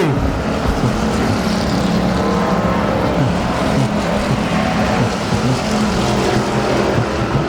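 Enduro race cars roar around a track in a dense, continuous wall of engine noise from a pack of cars, loud and close with no break.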